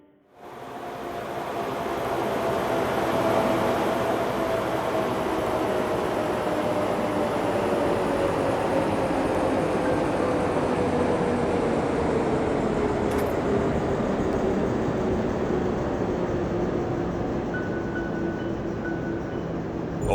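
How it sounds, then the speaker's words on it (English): A train rolls past in the rail dispatching simulation game Rail Route, a steady loud rumble of wheels and wagons with a slowly falling engine whine, continuous for about twenty seconds with no voices. "Sounds like we've got a train approaching."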